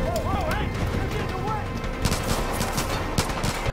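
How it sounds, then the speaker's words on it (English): Dense automatic gunfire in Far Cry 5 crackles throughout, with sharp bursts piling up in rapid volleys while a shouting voice cuts across the shots. "Stop shooting, stop shooting, stop shooting!"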